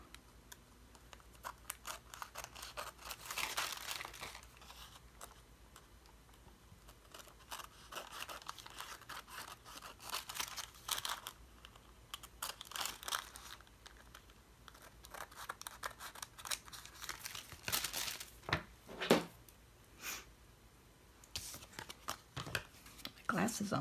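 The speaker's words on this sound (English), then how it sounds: "So then you just trim out the tag." Scissors trim a handmade paper gift tag, making close, repeated crisp snips and paper rustles in an uneven rhythm, fairly quiet throughout.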